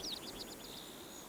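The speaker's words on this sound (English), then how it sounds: "the occasional chirp of hidden birds" Several quick high chirps from a small bird, faint and somewhat distant, in a short burst over soft background noise.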